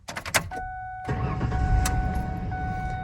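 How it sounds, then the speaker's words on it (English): A 2006 Ford Ranger engine starting: a short burst of cranking and clicks, then the engine catches and settles into a steady close idle with a chime ringing over it. "let's turn this thing on here. Ready to hear it start up?"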